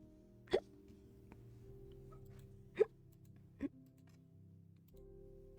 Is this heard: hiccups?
yes